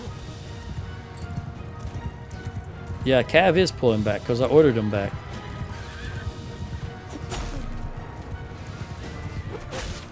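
Horses in the Mount & Blade II Bannerlord video game, with a burst of loud neighing and whinnying over a clip-clop of hooves and battle noise, while someone talks throughout.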